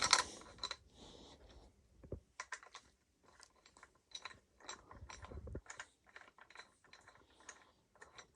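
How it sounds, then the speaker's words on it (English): Bolts being threaded and tightened onto the side cover of a Suzuki Savage motorcycle, a series of short close mechanical clicks and ratcheting bursts with brief pauses between them, no speech. "Just line up all three bolts. Just get them going."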